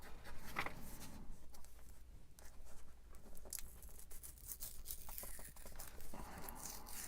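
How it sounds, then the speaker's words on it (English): A small strip torn from the inside flap of a junk-mail paper envelope during a craft project, giving close, dry ripping and crinkling paper sounds in short bursts over a few seconds. "I can just tear that little piece off that was part of the inside of the envelope"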